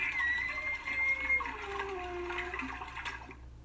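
A squeaky water pump from Homestar Runner whines and squeals in sliding, wavering pitches over a steady watery gurgle, moderately loud and continuous before cutting off.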